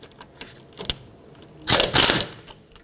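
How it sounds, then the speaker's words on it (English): A ratchet on the 13mm caliper bolts of a Dodge Grand Caravan's rear brakes clicks in short bursts, then gives a louder stretch of rapid clicking up close. "Remove these two 13mm bolts that hold the caliper onto the bracket."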